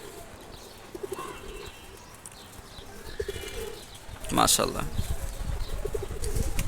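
Large pigeons coo softly in a dense chatter, then a loud flurry of wingbeats breaks out midway, with someone briefly speaking nearby.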